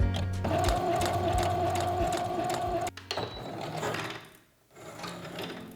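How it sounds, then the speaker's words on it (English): Close and loud, a sewing machine runs a stretch stitch along the collar of a baby outfit in a fast, even whir, then pauses with clicks and handling noises before starting again. "time to get on the sewing machine"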